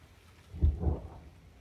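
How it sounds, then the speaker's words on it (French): Thunder rumbles low and heavy over pouring rain in a garden with a flowering meadow under fig trees, one rolling peak swelling and fading in under two seconds, with no voices. "Sacré orage là."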